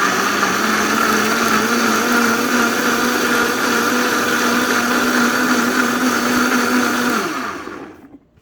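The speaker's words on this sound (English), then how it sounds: "I'm going to rev this up higher." Blender pureeing a salsa of charred tomatoes and chiles, running loud and steady on its own with a constant motor whine for about seven seconds before spinning down and stopping.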